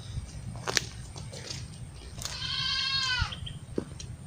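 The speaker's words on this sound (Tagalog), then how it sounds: "Yung kambing ko guys." A goat bleats once in a long, wavering cry, preceded by scattered clicks and rustling against a low background hum.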